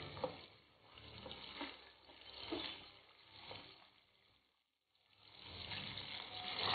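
Capsicum lightly frying in a pan for paella gives a soft, steady sizzle with occasional stirring clatter, rising and falling, briefly dropping away near the end before resuming.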